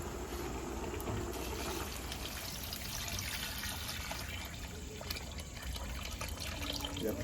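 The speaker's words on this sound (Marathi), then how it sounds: "आता परत पाणी टाकायचं" Water poured into a pot on a stove during cooking, a faint steady trickle and splash that runs evenly and quietly without pause.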